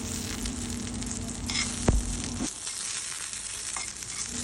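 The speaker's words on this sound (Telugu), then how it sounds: "ఇదిగోండి, ఇలా నేను వాటిని వేయించుకుంటూ ఉన్నాను చిన్న మంట మీద." Ingredients for peanut chutney, including tamarind, fry in oil in a pan over a low flame with a continuous soft sizzle, broken by one sharp knock before the frying quiets down.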